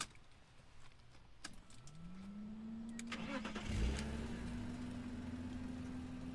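A BMW M3 engine, E36 or E46, cranks and fires with a rising starter whine that settles into a steady idle hum, close and fairly quiet, with a brief jangle of keys beforehand.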